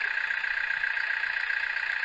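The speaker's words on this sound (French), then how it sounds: "j'ai le démarreur, j'ai le moteur qui tourne en boucle" A simulated truck engine loops from a small DFPlayer Mini speaker, a steady, tinny, high-pitched idling drone with a fast even pulse and no voices.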